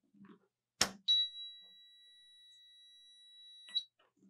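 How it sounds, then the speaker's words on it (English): An ESD mat ground monitor sounds its alarm after the mat is disconnected: a click, then a steady, high electronic beep that holds for about two and a half seconds before cutting off with another click, in a quiet room. "I'll disconnect it like I did the other one, and it should alarm."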